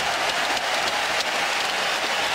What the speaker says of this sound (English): But they're giving him a standing ovation right now.